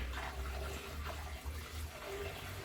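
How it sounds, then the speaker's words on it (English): Water gushes steadily into a container for making apricot moonshine, a continuous splashing pour with a low rumbling undertone, close by and fairly loud throughout. "put about a gallon of water in that."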